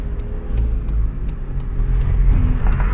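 A car pulls away on a city street, its engine a steady close rumble throughout, with a few faint ticks and rattles over the low drone.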